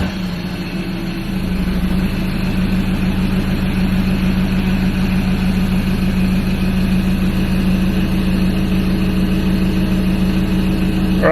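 A Ford Ranger engine with an aftermarket power chip idles steadily and loudly, a low constant drone with a faint rise just after it catches in the first seconds.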